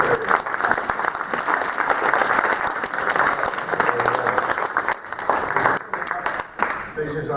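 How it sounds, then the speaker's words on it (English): Sustained applause from a convention audience at Anthrocon 2014 for a panel moderator, a broad steady roar of many hands clapping, loud throughout with slight dips near the end. "A round of applause for North for being an amazing moderator."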